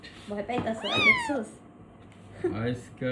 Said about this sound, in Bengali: তো পুরো অরিজিনাল বেঙ্গল ক্যাটের মতো লাগতেছে